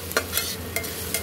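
Chowmein being stirred in a pan with turmeric and fried potatoes: a soft, continuous sizzle under intermittent scraping and clinking of a spatula against the pan, close and moderate in level, with no talking.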